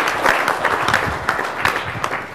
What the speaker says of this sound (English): Everybody, let's give Yaktrack and Jay a round of applause.